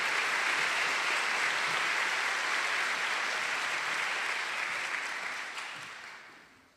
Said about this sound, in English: Let us give a round of applause to our Communication Sciences and Disorders Honors students.